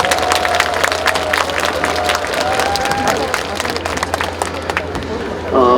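Audience at an opening ceremony claps in dense, sustained applause, a broad crackle of many hands with a faint tonal tone and crowd murmur beneath, ending as a voice begins.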